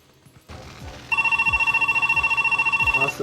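A telephone ringing in the video game Zelda Twilight Princess, a loud electronic trill of rapid repeated pulses that starts suddenly and keeps going steadily to the end, with a softer rumble of game sound before it.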